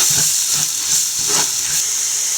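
Masala with pepper powder and garam masala sautéing in a pan for egg biryani, a steady bright hiss and sizzle throughout with faint stirring scrapes underneath.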